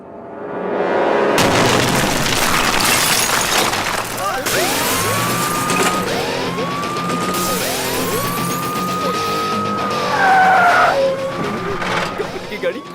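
Tires screech in a series of long skids over a loud engine roar, with a crash-like burst near the end.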